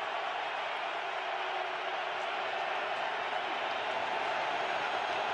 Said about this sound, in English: Crowd trying to jam the signals.